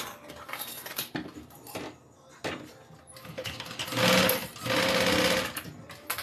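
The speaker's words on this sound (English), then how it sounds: "I'm going to sew it on with a 3 stitch length" A sewing machine stitches a fabric bag in several bursts, with the longest, steadiest runs of whirring needle strokes toward the end, separated by brief pauses and light clicks of handling.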